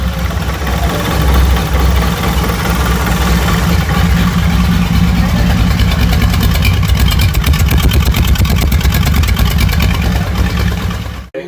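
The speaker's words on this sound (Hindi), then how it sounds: "चारों तरफ इंजन के पीछे मैं आपको साउंड सुनाता हूँ।" A Kawasaki Vulcan 1500 cruiser motorcycle engine idles steadily and loudly up close, a continuous throbbing rumble with no talking, cutting off at the end.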